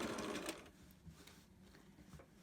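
A sewing machine runs at a slow, steady pace while back stitching the seam of a zipper pouch, a faint mechanical whir with soft rhythmic ticking, heard alone and fairly quiet.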